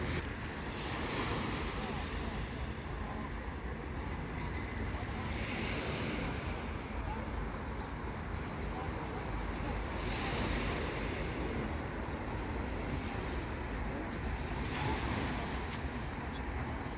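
Calm, glassy Mediterranean sea at Alanya beach in Turkey after days of storms: a soft, continuous wash of small waves with gentle swells rising about every five seconds, under faint wind.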